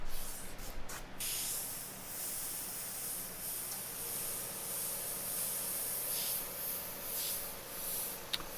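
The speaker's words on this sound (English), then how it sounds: "You see there I added some extra pink overspray." Airbrush spraying pink paint onto a T-shirt, a steady close hiss of air that runs almost the whole time, with brief pulses where the trigger eases and resumes.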